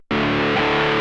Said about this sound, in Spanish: Classic Overdrive.